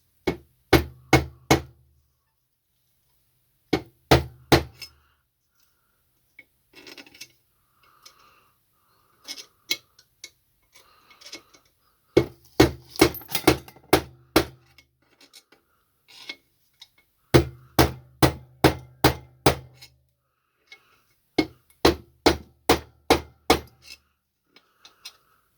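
A 1.5 kg hammer strikes a threaded rod on a sawing machine motor in rapid clusters of five or six sharp metallic blows, separated by pauses, loud and close.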